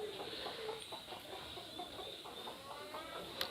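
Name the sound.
chickens clucking in a coop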